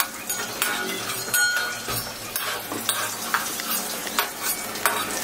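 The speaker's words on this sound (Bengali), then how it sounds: "এবার আমি আলুগুলোকে ভেজে নিচ্ছি" Potatoes fry in hot oil in a pan with a steady sizzle, broken by frequent clinks and scrapes of a spatula stirring them, close and fairly loud with no talking.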